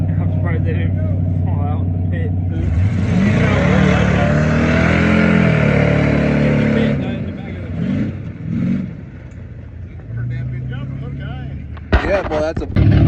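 A mud truck at a mud bog in Higbee, Missouri, revs its engine into a loud, sustained roar that holds for several seconds, then drops back to a rumbling idle with brief bursts, as people talk nearby.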